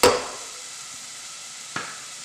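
Celery, onions and garlic sweating in a soup pot give a brief burst of sizzle at the start, then a soft steady hiss with one more short stir or clatter near the end, no voices.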